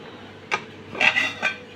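Ceramic plates clink and clatter a few times as they are moved and set down, with sharp knocks against a quiet room.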